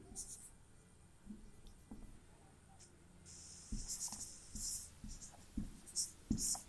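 A pen or chalk writes out the volume of a wall, a cuboid, in a math lesson. The strokes come as intermittent scratchy taps, faint at first and then more distinct, with a quiet room around them.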